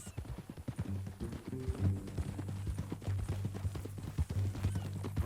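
In Red Dead Redemption 2, a horse walks with a steady clip-clop of hooves, close and fairly loud, mixed with low rumbling tones from the game's sound.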